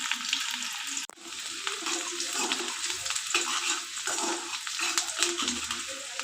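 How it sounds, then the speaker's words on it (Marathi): Onion fries in hot oil for a Marathi pavta amti, a continuous bright sizzle with a single sharp stir or clack near the start, close and steady throughout. "तेल गरम झाल्यानंतर कांदा टाकून घेऊ. कांदा चांगला भाजून घ्यायचा."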